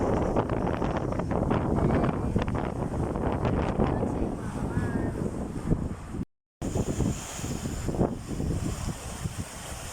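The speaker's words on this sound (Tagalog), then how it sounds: "Sobrang hangin dito mga kamars." Gusty wind buffets the microphone in a steady low roar, easing slightly midway, with a brief dropout before the rushing resumes.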